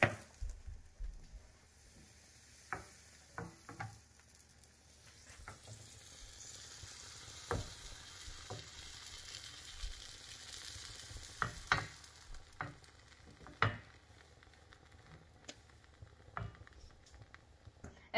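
Pancake batter fries in a hot pan with a steady, soft sizzle and crackle, broken by scattered sharper ticks and pops throughout, with no talking.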